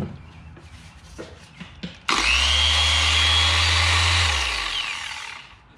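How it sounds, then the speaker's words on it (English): A Harbor Freight dual action polisher, freshly regreased, is switched on with a sudden loud whine and motor hum that runs steadily for about three seconds, then winds down, after some faint handling clatter. "Harbor Freight DA Polisher, grease change."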